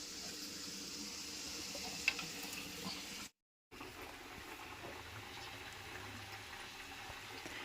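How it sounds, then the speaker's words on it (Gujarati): Steady, quiet sizzling of samosas deep frying in oil, a continuous crackling hiss with a brief dropout partway through. "સમોસા તળાવવાનું શરૂ થઈ ગયું"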